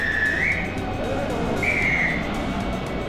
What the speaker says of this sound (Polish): A za komunikaty służą gwizdki.